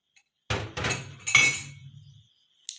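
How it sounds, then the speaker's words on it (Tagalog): Drinking glass being washed, giving a few bright clinks and knocks in quick succession, one ringing briefly, with a faint extra clink after a pause; no talking. "Ato ni panghugasan ang baso."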